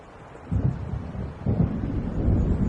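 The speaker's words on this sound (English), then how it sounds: "It seems there's a storm coming." Thunder rumbles in a stormy coastal night scene in Alan Wake Remastered, with low, rolling swells that rise at about half a second and again later, heavy and continuous without speech.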